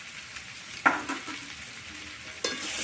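Tomato and garlic paste frying and being stirred in a pan, a soft sizzle broken by a few sharp scraping stirs, close and without speech.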